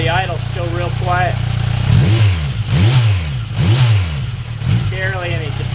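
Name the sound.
Kawasaki Versys 1000 engine with Holeshot slip-on exhaust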